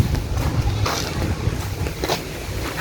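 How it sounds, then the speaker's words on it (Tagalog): Loud wind buffeting the microphone, a low rumbling roar with brief gusty surges. "Mahangin po kasi."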